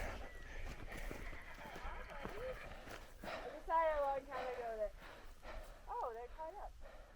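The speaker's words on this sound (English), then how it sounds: "Horses." Horses neigh and whinny a few times at close range, with hooves clopping and people talking softly in the background.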